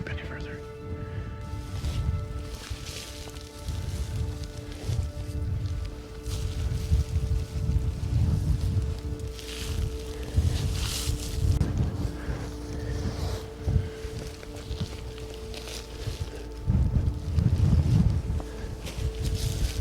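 Steady gusty wind buffets the microphone on a British Columbia mountainside during a goat hunt, a continuous rough rumble that swells and eases, with soft rustling and movement underneath.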